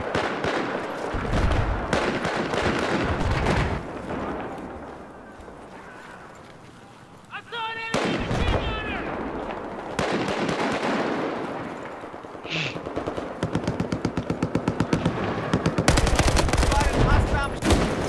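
Shotgun and automatic gunfire in Battlefield 4, loud rapid bursts and blasts with dense rattling fire and clattering, interrupted by brief quieter moments, under game noise and a player talking.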